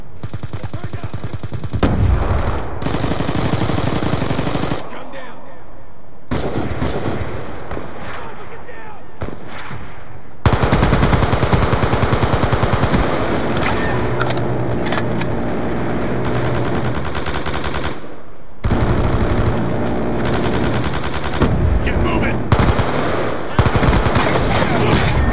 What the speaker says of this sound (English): Hostile death machine spinning up.